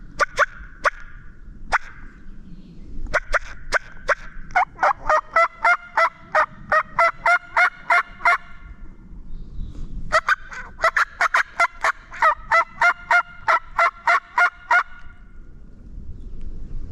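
A wild turkey gobbles repeatedly in the Appalachian highlands, clear rattling bursts from a short distance, with a couple of single calls before two long runs of gobbling separated by a quiet pause.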